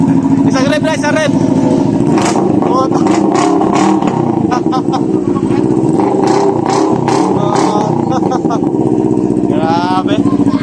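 An NK400 motorcycle exhaust revs loud and close, with repeated throttle blips over a constant engine roar, as voices talk throughout.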